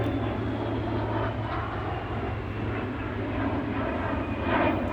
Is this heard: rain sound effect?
no